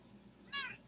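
A grey pet cat gives a single short, bright meow partway through, close to the microphone, over a quiet indoor room hum.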